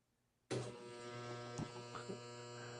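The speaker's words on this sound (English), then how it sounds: "And there's my crazy refrigerator." Steady electrical hum of a refrigerator kicks in abruptly and then runs continuously, loud and close, with a few faint clicks and knocks over the drone.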